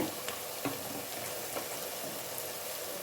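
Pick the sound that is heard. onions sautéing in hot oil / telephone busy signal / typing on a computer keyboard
onions sautéing in hot oil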